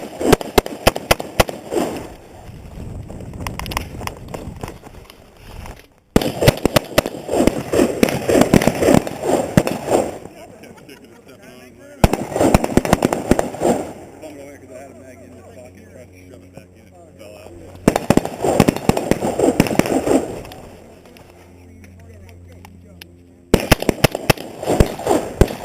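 A Haley Strategic Adaptive Carbine fires in a shooting drill: four loud volleys of rapid shots separated by short pauses, with shouted voices in between.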